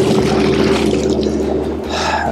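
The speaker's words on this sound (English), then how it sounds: "Let's just rinse off a little bit." Running water rinses lotion off hands, a steady close splashing wash that stays constant and briefly eases near the end, with no talk.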